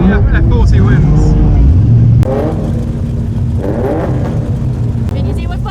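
A Cobra roars as it accelerates hard while chasing a Ferrari F40 on the road, its engine note rising steadily. Loud wind rushes throughout, and a voice talks over the first couple of seconds.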